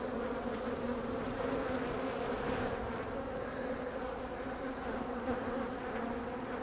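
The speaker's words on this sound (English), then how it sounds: "These bees are giving off alarm pheromone. I can smell them. The ones that are up here in my face." Agitated honeybees swarm close around a beekeeper's face, a dense, continuous buzzing hum that stays loud and steady throughout.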